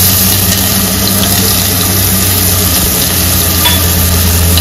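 Chopped onion fries in hot oil with cumin and asafoetida, a loud, dense, continuous sizzle over a steady low hum throughout.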